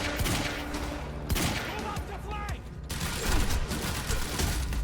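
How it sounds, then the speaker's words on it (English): Dense, loud enemy gunfire in the video game Quantum Break, with overlapping bursts and rapid volleys coming from many directions, punctuated by sharp cracks and mechanical clatter. "I'm getting shot from like 8 different directions"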